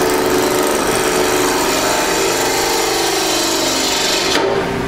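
A wood lathe spinning as a gouge cuts into a bowl blank turned on the bias, giving a steady, loud scraping hiss that runs continuously and cuts off just before the end.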